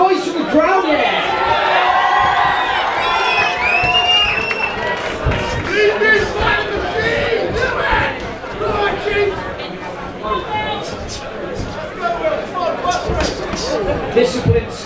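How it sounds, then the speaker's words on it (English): A loud white collar boxing crowd cheering and whooping close up, with excited shouts and a chattering babble throughout. "Can we get a bit of a noise from the crowd?"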